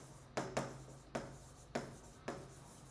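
A pen writes on a worksheet page in close, quiet strokes: five short scratchy bursts spaced unevenly over a few seconds, with no voice over them.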